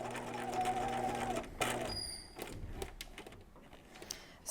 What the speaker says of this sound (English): So I'm just stitching right on the edge of the fold here.